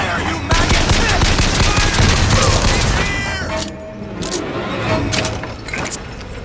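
Rapid automatic gunfire and explosive bursts fill a BioShock Infinite firefight, loud and dense at first, then thinning into scattered shots while a voice shouts in the game.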